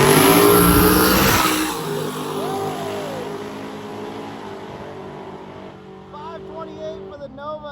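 A Nova and a Camaro launch down a drag strip, the Camaro pulling a wheelie. A loud engine roar at the start fades as the cars pull away, with an announcer talking over it.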